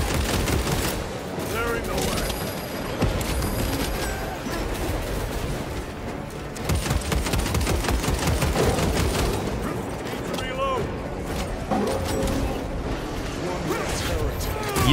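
Missile and gunfire barrage in Space Marine 2 on Veteran difficulty, a dense, continuous clatter of shots, mechanical whirring and impacts that stays loud and busy throughout, with someone talking over the chaos.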